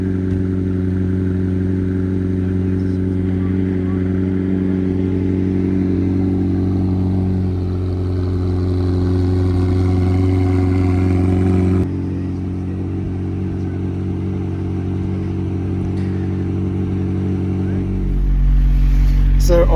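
A McLaren 765 LT sports car is driven on Colorado roads, its engine holding a loud, steady harmonic drone that steps in pitch with gear changes and swells near the end. Faint talk sits beneath.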